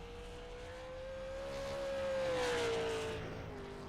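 Race car in a sim racing qualifying session coming off turn 4, engine tone rising and swelling as it passes close, peaking midway then dropping in pitch as it moves away, no talk.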